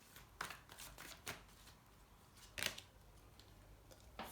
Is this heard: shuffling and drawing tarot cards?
yes